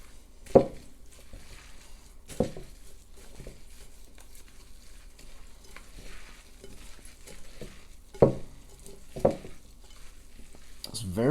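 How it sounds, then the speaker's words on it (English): Crab cake mixture with egg being stirred together in a bowl, quiet wet squelching and soft scraping with a few sharper utensil knocks against the bowl, close and otherwise hushed. "So now, just mix everything together until it's nice and incorporated."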